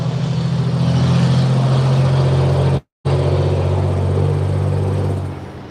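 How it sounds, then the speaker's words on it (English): Truck passing by with its engine brake engaged, a loud, steady low droning rumble that holds strong, breaks off briefly mid-clip, then resumes and fades toward the end. "Stay on them jack brakes, buddy."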